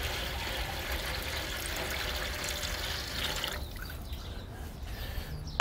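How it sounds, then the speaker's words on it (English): Hot water pours into the water pan of a smoker, a steady close trickling and splashing that cuts off abruptly partway through, followed by quieter ambience. "So in with the hot water."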